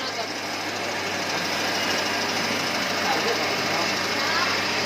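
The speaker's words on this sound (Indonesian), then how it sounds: "mesin cylinders grinding, yang dimana dia menggerinda diameter bulat, benda bulat" A cylindrical grinding machine grinds a long round workpiece, giving a steady, dense machine whir with a continuous broadband hiss that holds at an even level throughout, with no pauses.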